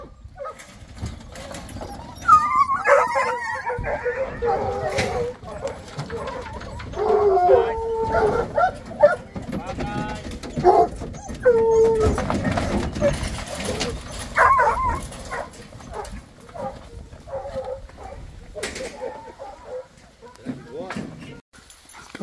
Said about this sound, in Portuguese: Léo, Bruno, ajeita aí pra vocês soltar os cachorros.